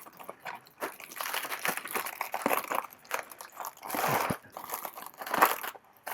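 Crinkly plastic wrapping being pulled off a 1/7 scale White Tiger model kit from Balance of the Nine Skies, a steady run of close rustling and crackling handling noises with no talking.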